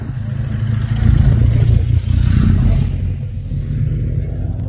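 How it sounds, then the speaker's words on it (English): An adventure motorcycle passes by on a mountain road across open moorland, its engine rumbling up and then fading as it goes. A steady, fairly loud drone peaks midway, with wind noise throughout. "Adventure bike's coming through."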